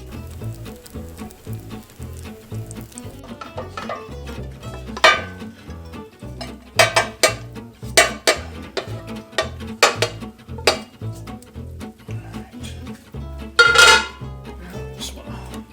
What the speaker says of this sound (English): now once that's all mixed together, we're going to transfer it into a baking pan